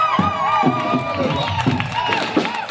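A church congregation cheers and acclaims during a deliverance worship service, a dense, continuous crowd roar with repeated shouted bursts and voices mixed throughout.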